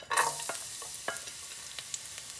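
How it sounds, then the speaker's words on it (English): Garlic dropped into hot oil in a fry pan on a gas stove, a burst of sizzling at the start that settles into a quieter steady fry with a few clinks and stirring sounds. "when is the oil hot, add the garlic"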